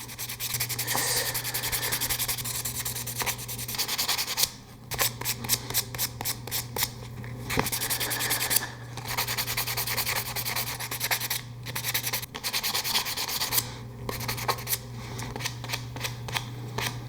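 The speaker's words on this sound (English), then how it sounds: "I just gotta scuff it up where the Hysol's gonna hit" Hand sanding scuffs varnished airplane tail parts for a Kitfox build, a steady close rubbing rasp that runs in long continuous strokes with a few brief pauses.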